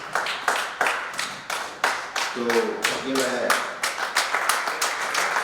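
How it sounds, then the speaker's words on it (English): An audience claps in a quick, uneven burst of separate, sharp hand claps at a ZRTI Hyderabad ceremony as a family is invited onto the dais, with someone speaking over the clapping. "big round of applause for them"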